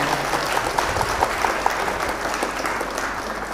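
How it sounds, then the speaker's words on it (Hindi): Audience applause at a mushaira, an Urdu poetry gathering: a dense, steady burst of many hands clapping together, fairly close and sustained throughout with no speech over it. "एक बार इनके लिए जोरदार तालियां बजा दें"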